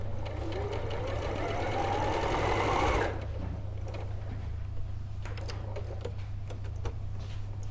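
A domestic sewing machine stitches a quilted cushion, a fast, close, whirring run lasting about three seconds before it stops, followed by quieter room sounds and light handling clicks.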